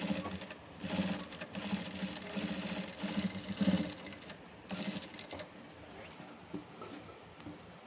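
Sewing machine stitching along a folded-in fabric edge, a steady close mechanical whirr running in bursts with brief pauses, no talking.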